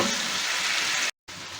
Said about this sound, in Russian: Обжарим до готовности, до полной готовности.